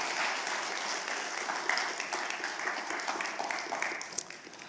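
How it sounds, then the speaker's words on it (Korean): A church congregation at a Korean church in Orange County claps to welcome a pastor, a moderately loud, even round of applause that thins slightly toward the end. "기쁜 마음으로 환영하면서 박수로 한번 맞이해 주시면 감사하겠습니다."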